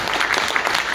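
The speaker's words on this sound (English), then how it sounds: "One quick round of applause for Clay Pelkwater." An awards-night audience at a billiards hall of fame ceremony claps in a dense, steady burst of applause, close and fairly loud throughout the brief moment.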